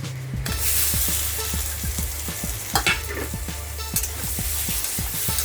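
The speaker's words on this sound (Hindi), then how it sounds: "डाल के हम पहले पनीर को फ्राई करके ले लेते हैं।" Paneer fries in hot oil with turmeric and salt in a home kitchen, a constant close sizzle broken by regular knocks of a spoon stirring against the pan.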